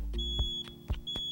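Pressing a smoke detector's test button sets off a high, thin electronic beep that starts and stops, broken up by several dull thumps, short and moderately loud with no speech.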